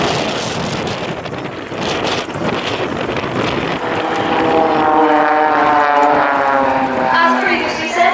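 Blades aerobatic team aircraft flying at the Cosford airshow, a loud propeller drone with wind buffeting that rises and shifts pitch as the planes pass, with a commentator talking over it.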